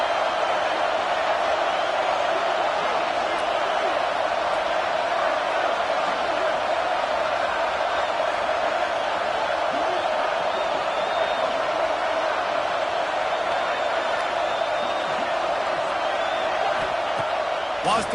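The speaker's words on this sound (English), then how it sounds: "Listen to this crowd just shaking the girders of this place," Home crowd at a Notre Dame at Oklahoma college football game roars steadily throughout, a dense continuous wall of stadium noise with faint voices on top.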